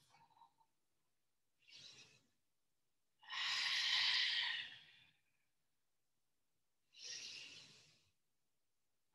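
Breaths move slowly in and out during a spine and rib cage exercise, with three or four separate soft, airy inhales and exhales that are close and quiet, with silent pauses between them.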